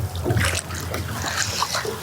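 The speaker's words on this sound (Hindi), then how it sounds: "ये पानी की जो आवाज़ें हैं वो आपको सुनाई दे रही होंगी।" River water splashes and sloshes against the hull of a boat at Mathura, a close, busy patter of small splashes and trickles over a low, steady rumble.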